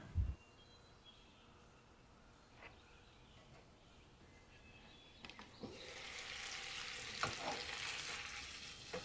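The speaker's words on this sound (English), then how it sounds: "just cover the pot and let them simmer until the water reduces" Meatballs simmer in a covered pot of Persian fesenjan stew with pomegranate and walnuts, giving a faint, steady sizzle and bubbling that grows a little louder and busier toward the end, with occasional soft knocks.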